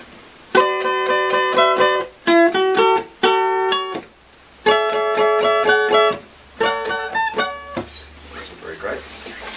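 A lead melody for a song plays on guitar in several close, loud phrases of clear sustained notes separated by short pauses, with a noisier, scratchier tail at the end.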